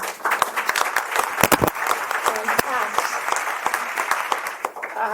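Audience in a room full of women claps for Deloitte at a Society of Women in Taxation event, a steady close burst of many hands with sharp individual claps standing out throughout.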